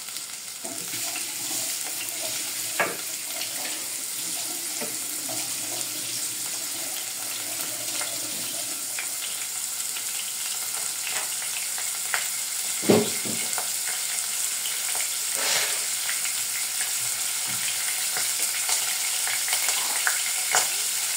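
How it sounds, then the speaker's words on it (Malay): Shallots, onions and garlic sauté in hot oil in a home kitchen, a steady bright sizzle running throughout with occasional stirring scrapes and clacks from the pan, close and continuous, with no talking. "Kita akan tumiskan bawang."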